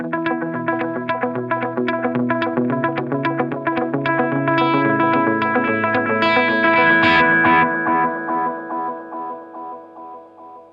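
Electric guitar through a Holy Era tap tempo delay pedal with delay volume set slightly above unity, picked notes and chords followed by clear, loud repeating echoes that keep cascading and fading after the playing ends.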